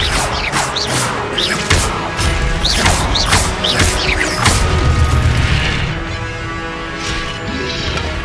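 Fiery spell blasts and crashing impacts in Hogwarts Legacy, a dense run of loud whooshes, bangs and thuds layered over continuous game noise and music, with sharp bursts repeating every second or so.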